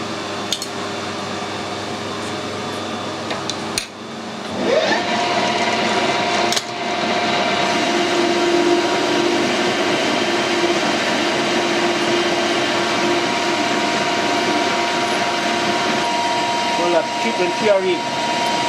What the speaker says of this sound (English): Lathe tip's doing alright, it's breaking the chips nicely as well.